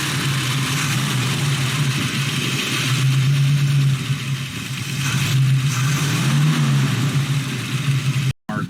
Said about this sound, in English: Let's fire it up, shall we? We'll let it idle.